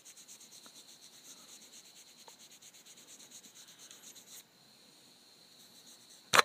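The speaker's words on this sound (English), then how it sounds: "So all I'm doing is just wiping it like this. Until it's clean." A cloth wipes the water-damaged LCD screen of an iPhone 4s in soft, rapid, rhythmic rubbing strokes that stay faint and close, then stop, before a brief louder knock at the end.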